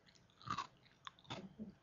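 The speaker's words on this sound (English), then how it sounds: "We're going to try to hear the crunch of the spaghetti squash." Cooked spaghetti squash crunches faintly as someone bites and chews it, with a few soft, close crunches spread over about two seconds.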